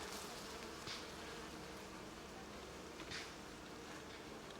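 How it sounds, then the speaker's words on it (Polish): Honeybees crowd a cloth at an open hive, giving a steady, faint, continuous buzz with soft swells and no speech. "miałem teraz tych pszczół na tej szmatce sporo"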